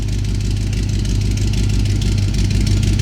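A 1955 Napco clone truck engine idles loud and steady through a custom 2.5-inch dual exhaust, a deep continuous rumble close by with no talk over it.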